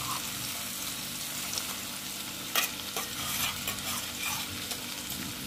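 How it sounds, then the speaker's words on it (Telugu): Onion paste frying in a pan and being stirred into fried tomatoes for a spicy brinjal masala curry, a steady close sizzle with scraping spoon strokes and a few sharper clinks, no voices. "ఇప్పుడు మనం ఆనియన్ పేస్ట్ వేసుకున్నాం కదా, ఈ ఆనియన్ పేస్ట్ టమాటాలో వేసుకోవాలి"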